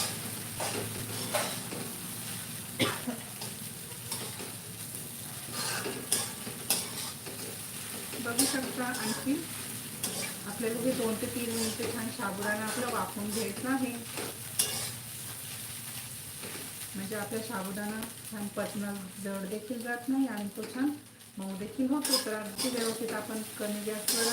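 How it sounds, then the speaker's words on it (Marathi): Sabudana khichdi stirred and mixed in a pan, continuous scraping and sizzling with spoon clatter, under a voice talking throughout. "आपण या साबुदाण्याला आपण अगदी व्यवस्थित मिक्स करून घेऊयात"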